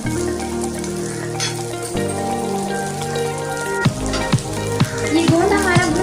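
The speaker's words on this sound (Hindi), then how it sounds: "ये देखिए गोंद भून रहा है।" Edible gum (gond) roasting in a hot kadai gives a steady crackling sizzle with rain-like popping, a few sharper pops standing out toward the end.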